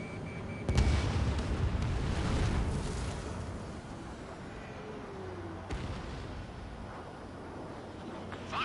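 A video game missile launch and explosions, a heavy boom bursting out near the start and a second hit later, over a continuous low roaring rumble in an aerial combat scene.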